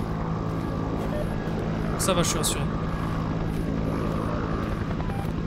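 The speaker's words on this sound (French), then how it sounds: "Pour l'instant il y a toujours l'hélico." A helicopter drones steadily overhead in a video game with an alien abduction theme, a constant low rotor rumble running under someone speaking French.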